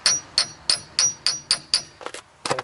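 A hammer strikes metal about seven times in a steady rhythm while removing a CV axle on a 2012 Honda Accord LX, each blow sharp and ringing, followed by a few softer, duller taps.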